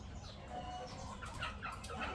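Rooster clucking on a farm, a young cockerel with a sore leg kept with hens, soft repeated clucks and calls scattered over a steady low background rumble, no voices.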